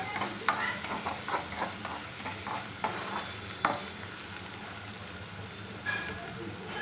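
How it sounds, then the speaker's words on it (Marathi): Sautéed onion with turmeric is stirred in a pan, a steady close sizzle broken by repeated spoon scrapes that come in an uneven rhythm, with no voices. "कांदा छान परतलेला आहे आपण टाकून घेऊया हळद मिक्स करून घेऊया"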